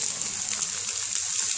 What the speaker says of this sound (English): Water goes straight in. Look at that steam.